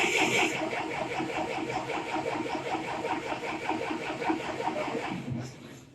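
A Massey Ferguson Super 90 gas tractor engine runs steadily up close after a hard start, giving a loud, even, rapid chugging that continues for about five seconds before it cuts off abruptly near the end.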